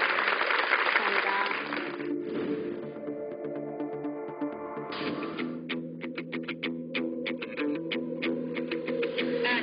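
Audience clapping at a talk concert welcoming a lecturer, loud at first and then thinning into scattered claps, with music and a voice over it.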